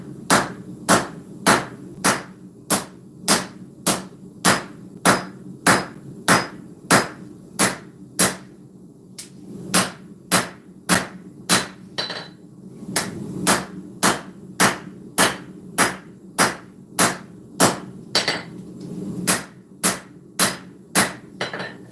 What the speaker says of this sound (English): we need to come in and forge this front down.